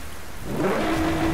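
Steady rain pours down during a race in the driving game Driveclub, a dense continuous hiss with a low engine-like rumble underneath as the track gets wet.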